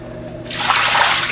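Rinse water dumps out of a YSI sonde calibration cup in a quick, close splashing gush that swells briefly and then tapers off.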